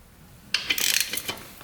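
Wrench turning the 17 mm oil drain plug on a 1976 Honda Elsinore dirt bike: a few close, quiet metallic clicks and scrapes in a short cluster, then sparse ticks fading out.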